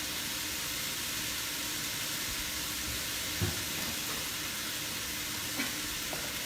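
Sausage browning in a pan for a breakfast casserole gives a steady, even sizzle throughout, with a couple of faint clinks or scrapes partway through and no talking.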